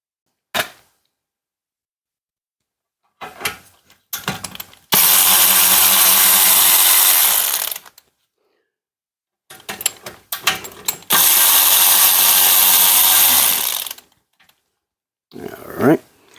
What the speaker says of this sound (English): this is the VTech power ratchet that I was sharing in a previous video